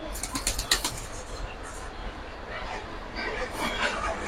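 Quick bursts of Giribaz pigeons' wings flapping, faint and scattered, with soft murmuring voices and bird rustling in the background.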